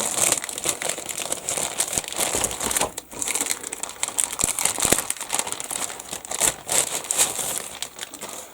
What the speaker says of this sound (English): I get stapled bags, we all know, I just cut them open.